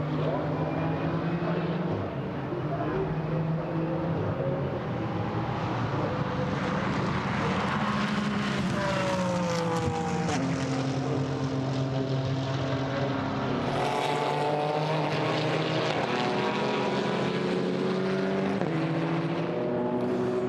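A BMW M4 GT4 race car approaching at the Nürburgring during a GT4 European Series race, engine rising and falling through gear changes with a sustained loud roar, under excited race commentary.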